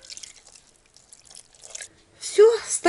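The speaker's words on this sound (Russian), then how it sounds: "И выливаем чаек." Tea is poured into a multicooker over fish laid with vegetable oil for homemade sprats. After a quiet stretch, a brief, close splash of liquid comes near the end.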